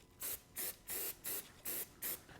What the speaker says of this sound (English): Break out the spray mount.